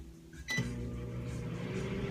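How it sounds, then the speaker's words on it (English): A microwave oven heating food, a faint click and beep followed by a steady low hum that continues alone. "I'm gonna heat this up in the microwave."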